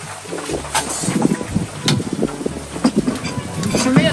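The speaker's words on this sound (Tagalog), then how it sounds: "Oh, lakas po ng hangin." Strong wind rushes and buffets the microphone throughout at an outdoor fishpond, with people talking over the steady roar.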